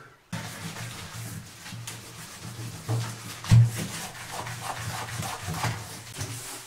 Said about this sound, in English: Need to scrub a little more in this corner here.